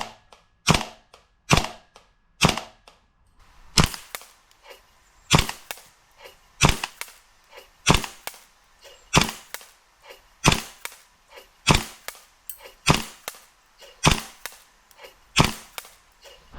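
A stock WeTech M4 airsoft rifle fired in a test, sharp snapping single shots about one per second, crisp and close with quiet gaps between, no talking.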